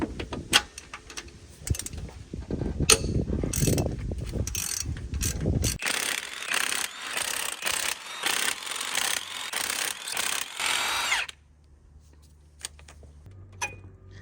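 Socket ratchet loosening head bolts on a Jeep Cherokee engine, brisk clicking pawl ratcheting in repeated bursts, then a steadier run of rapid clicks, ending in near silence with faint mechanical noise.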